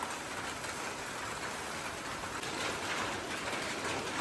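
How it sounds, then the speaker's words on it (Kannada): Light morning rain comes down in a steady, even hiss with a faint patter, and a slight swell in loudness toward the end; no one speaks. "ಬೆಳಗ್ಗೆನೇ ಮಳೆ ಬರೋಕ್ಕೆ ಸ್ಟಾರ್ಟ್ ಆಗಿದೆ."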